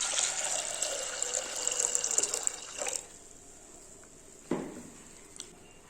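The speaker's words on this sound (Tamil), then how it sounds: "தண்ணி சேர்த்துக்கலாம்." Water poured into a pot of chana dal and toor dal for cooking, a steady close splashing pour that stops about halfway, followed by a single clunk.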